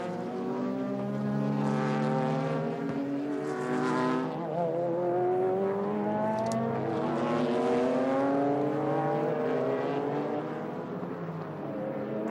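A Nissan race car laps the Aida circuit in a 2004 JGTC race, its engine droning loud with rising and falling pitch as it passes close by, with other engines blending in.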